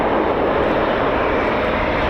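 Turboprop aircraft powered by two Rolls-Royce AE 2100 engines at RAF Fairford, a steady loud droning engine roar with dense low rumble, continuous and unbroken.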